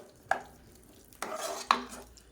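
Pongal mixture with ghee and oil stirred in a pot, heard as three separate scraping strokes of a utensil against the vessel, close and distinct, with quiet pauses between them.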